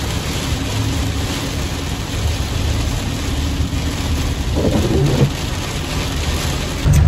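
Heavy rain pours steadily outside a house with a double garage, a loud constant wash with a low rumble of thunder swelling near the end, and no voices.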